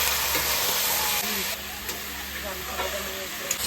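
Fried eggplant and spices sizzling in a hot pan during home cooking, a steady close crackling sizzle with a few small stirring knocks, loud and continuous.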